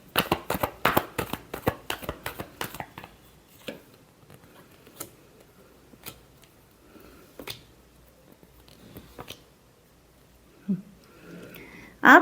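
Tarot cards riffled and shuffled by hand, a quick burst of crisp papery flicks at the start followed by sparse scattered taps and card slaps, with a brief voice near the end.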